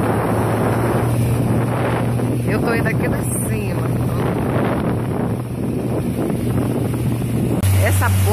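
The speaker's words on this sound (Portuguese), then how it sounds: "Ó, vai ficar barulho de vento, galera." Heavy wind buffeting a microphone aboard a boat on an Amazon river trip, a loud continuous rumble with engine drone beneath while a person talks briefly.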